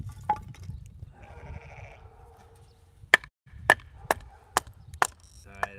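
Firewood is split by batoning, a series of sharp, loud wooden cracks in a rough rhythm near the end, after an earlier sheep or goat bleat in a quiet outdoor setting.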